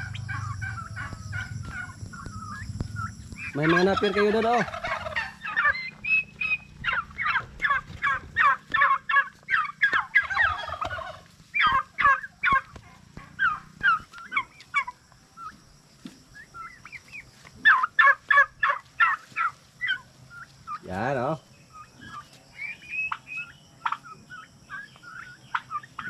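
Large domestic turkeys gobble repeatedly in rapid, rolling bursts, several birds close by calling over one another for a long stretch, with clucks in the pauses and a person speaking briefly.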